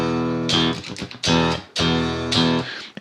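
Clean electric guitar played through the clean channel of a JPTR amp with no pedals, sounding as four bright strummed chords with sharp attacks and brief gaps between them, close and alone.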